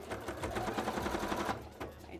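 A sewing machine runs a continuous top stitch along the edge of a gauntlet, steady rapid needle rhythm throughout, close and moderately loud, easing briefly near the end.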